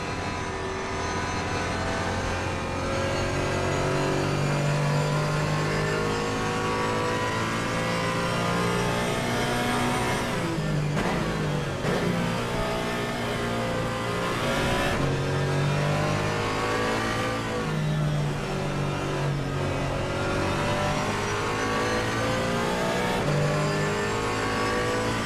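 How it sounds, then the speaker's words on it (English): Race cars from a multi-class endurance race at the Nürburgring in a racing video game roar continuously, engines revving up and down through gear changes as cars pass close by, with no one talking. "Faster car coming up behind."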